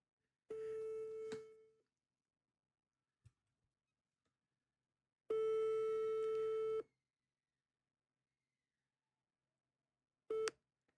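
A telephone line tone sounds in repeated bursts with silences between them, the last one short, as a call is placed to a lawyer.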